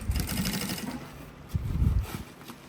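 Sewing machine topstitching the lining seam of a fabric lunch box, running in two short bursts with a brief pause between, fairly close and moderately loud.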